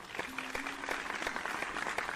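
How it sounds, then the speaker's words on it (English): A classroom audience applauds student presenters in a chemistry project, a brief burst of scattered, fairly quiet clapping with distinct individual claps. "Please give them a warm round of applause."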